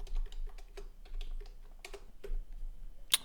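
Keys clatter on a computer keyboard in quick irregular bursts while someone works at a JavaScript command line, fairly close and steady, ending in a sharper final keystroke.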